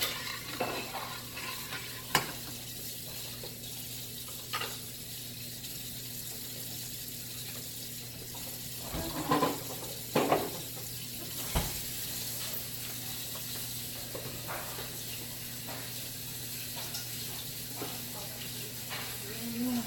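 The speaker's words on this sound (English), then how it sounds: "I'm going to bring this to a boil." Cajun sauce with heavy cream heating in a pan toward a boil, a faint steady simmering hiss with occasional soft clanks and scrapes of a utensil, quiet and without talk.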